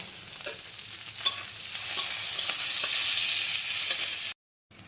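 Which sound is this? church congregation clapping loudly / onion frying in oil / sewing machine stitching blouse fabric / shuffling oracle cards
onion frying in oil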